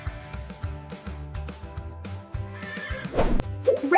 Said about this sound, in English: Horse. This is a horse.